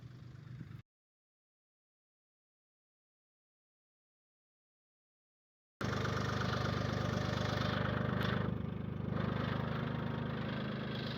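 A machine idles in a steady, mid-pitched drone while lowering its stabilizer legs on a gravel driveway at an old farmhouse. The engine runs close, cuts out for several seconds, then returns at an even, constant level.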